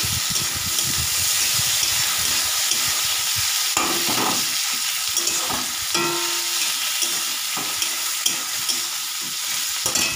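Tomatoes tipped into a pan of onions frying until reddish for a chiti kangra fish dish, producing a loud, dense sizzle and hiss with bursts of sputtering, close up and continuous.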